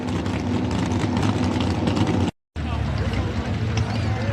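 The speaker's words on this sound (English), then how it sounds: "Sonny Leonard Hemi. 650 cubic inch, naturally aspirated." A 650 cubic inch naturally aspirated Sonny Leonard Hemi drag car engine idles with a steady, loud, deep rumble at a night drag race, broken by one brief gap.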